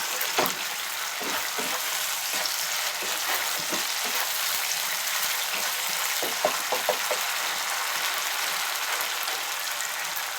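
Spice masala sautéing in a pan, a continuous crackling fry with scattered scraping taps of a spoon stirring, steady and moderately loud throughout without talk.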